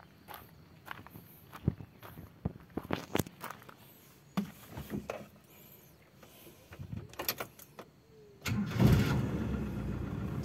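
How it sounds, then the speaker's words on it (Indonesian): A Toyota Kijang Long family car has its engine started after footsteps and door sounds, then a cranking catch settles into a close, steady idle for the final seconds. "Sekarang kita hidupkan aja mesinnya."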